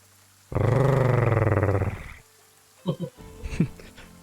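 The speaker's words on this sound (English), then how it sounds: "hear the hound growl?" A hound growls behind a bar in a tabletop fantasy campaign, one loud, throaty rumble lasting about a second and a half before cutting off, followed by a few brief voices.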